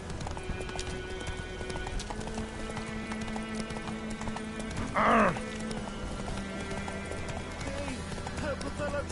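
Roach the horse gallops in The Witcher 3: Wild Hunt, with rapid rhythmic hoofbeats throughout, a brief whinny midway, and game music humming underneath.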